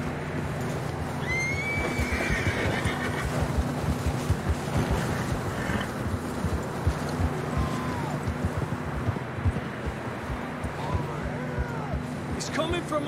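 Horses in the Red Dead Redemption 2 snowy mountains whinnying several times, with rising and falling neighs over a steady bed of hoof clip-clops, wind and rushing ambience, while characters talk throughout.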